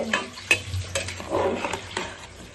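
Vegetables for a home-style beans palya are stirred and mixed in a hot pan, with scraping spoon strokes and clatters over a steady low sizzle, close and fairly loud.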